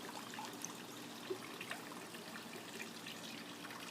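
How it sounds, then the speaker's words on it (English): Gentle, steady trickle of water from a small garden fountain built from junk art beside a deck, soft and continuous with faint splashes, no voices. "There's something about the sound of running water, isn't it?"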